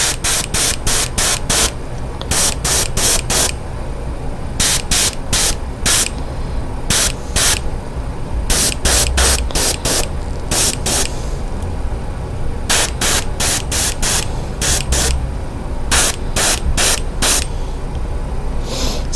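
An airbrush sprays paint in a run of short, sharp hissing bursts with brief gaps between them, close and loud, while painting a Mooneye pattern onto a fishing lure.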